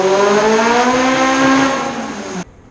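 A turbocharged car engine pulls hard at full throttle on an uphill climb, loud and close, its steady roar stuttering as the ignition breaks up, then the throttle lifts sharply near the end.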